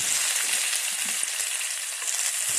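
Garlic frying in a pan for a sauté of dried fish, giving a steady, close, dense sizzle that holds without a break and has no talking over it.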